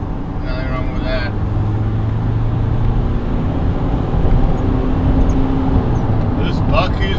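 A GWM P-Series pickup is driven hard through a corner, its engine droning loudly and steadily throughout with a rising note, while someone talks over it.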